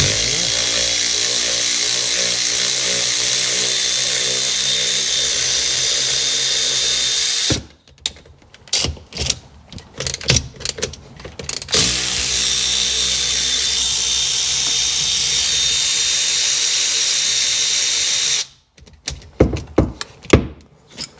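A 13 mm socket or wrench works on a Sea-Doo GTX DI personal watercraft engine near the fuel injector connectors, with two spells of close, choppy mechanical tool noise breaking up a steady background hum.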